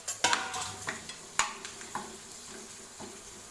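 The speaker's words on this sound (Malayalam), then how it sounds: "ഈ പപ്പടത്തിനെ നമുക്ക് പൊടി കളഞ്ഞെടുത്ത് കട്ട് ചെയ്ത് വെച്ചിരിക്കുന്നതാണിത് ഇത് നമുക്ക് ഇതിലിട്ട് വറുത്തെടുക്കാം" Papadam pieces frying in hot oil for a Kerala-style papadam thoran, heard as scattered crackles and sharp clicks over a soft, intermittent sizzle, close by and with no talking.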